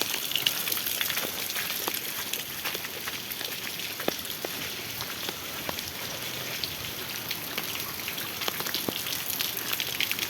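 Heavy monsoon rain pours down steadily, a dense, even hiss of countless drops striking the ground and water, with scattered sharper drips, continuous and fairly loud throughout.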